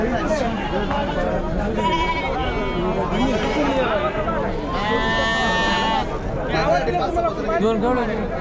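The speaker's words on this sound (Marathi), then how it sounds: "मेंढ्या पाहू शकाल मित्रांनो." Sheep bleat repeatedly at a busy Maharashtra livestock market selling goats, sheep and poultry, several loud nearby calls rising over constant crowd chatter and voices.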